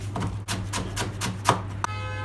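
Parsley being finely chopped with a knife on a board for a Kilis tava filling, a run of steady, evenly spaced close blade strikes, with a steady low hum underneath.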